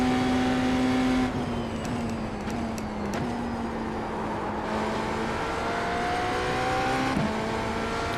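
An LMP3 race car engine on the Monza circuit in the iRacing sim holds a steady mid-pitched drone that dips and swells between gear changes, continuous and fairly loud throughout.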